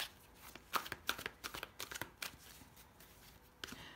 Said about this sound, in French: On va poser 6 cartes.